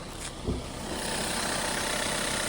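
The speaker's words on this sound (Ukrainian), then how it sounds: "Двигунчик працює ідеально" A SEAT Altea XL minivan's 1.4 TSI 92 kW engine idles close by with an even, hissing hum, broken by a single soft knock near the start.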